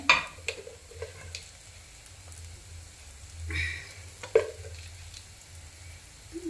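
Cooked bitter gourd is stirred with peanut powder in a pan, giving soft scraping and occasional spoon knocks against the metal over a low sizzle, fairly quiet and close.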